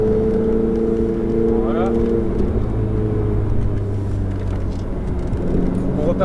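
A Ferrari 488 GTB engine drones loudly on the Fay-de-Bretagne race circuit, its steady pitch sliding down then settling, under a voice speaking briefly.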